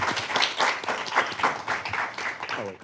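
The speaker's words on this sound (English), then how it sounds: "Join me in giving a big round of applause for our panel." A conference audience at an AI policy summit applauds the panel, a brief burst of hand clapping with uneven rhythm, moderately faint and fading out.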